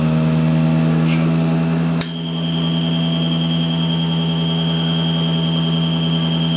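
A reoriented electric motor drives a generator used for charging batteries, giving a steady, loud mechanical hum with strong low tones and a high whine, interrupted by one sharp click partway through, with no talking.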